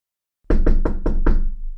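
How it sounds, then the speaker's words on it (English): Five quick, loud knocks on a great oaken door, evenly spaced and close, after a moment of silence, with a short resonant ring as the last knock fades. "There came a knock upon the great oaken door that had been Dumbledore's"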